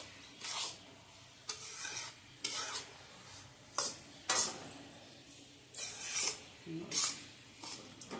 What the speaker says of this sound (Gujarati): ગેસ બંધ કરીને હવે થોડીક મિનિટ હલાવી, બકડીયું બહુ ધગે છે ને, એટલી વાર આપણે હલાવી